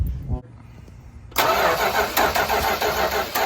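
A 1972 Dodge W200 Power Wagon engine cranks over with a sudden, loud, continuous churning roar after a quiet moment and a short voice, close to the truck.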